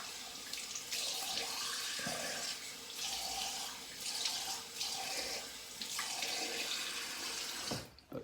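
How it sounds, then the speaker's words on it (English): A tap runs steadily into a sink while a 28mm two-band badger shaving brush is rinsed under it, a continuous close splashing flow that cuts off near the end. "So we'll rinse that off real quick"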